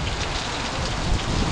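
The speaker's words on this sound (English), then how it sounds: "All that temptation we were saying about wishing it would rain." Steady rain falls outdoors over a garden in a soft, continuous patter. It is fairly faint and heard alone, with no voices.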